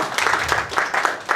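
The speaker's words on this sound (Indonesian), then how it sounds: "Berikan sorak-sorai buat dia." A church congregation breaks into applause and cheering, a dense roomy wash of clapping that swells and ebbs in waves, filling the whole brief stretch.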